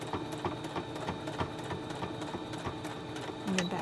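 Close up, a sewing machine back stitches across the folded pleats of a fabric face mask, its needle clattering in a quick, even rhythm of soft repeated taps.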